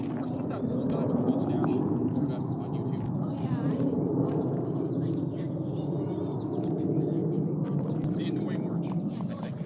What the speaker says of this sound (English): They look like either F-16s or F-18s.